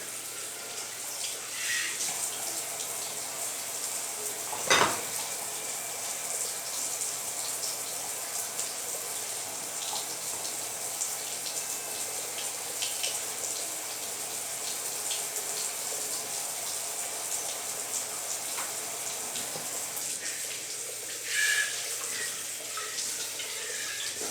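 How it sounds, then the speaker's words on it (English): A glass canning jar being rinsed under warm tap water, a steady running-water rush with a few sharp clinks and splashes over about twenty seconds. "I'm just going to take a sponge with some soap and I'm going to clean it really good around the sides, around all the edges."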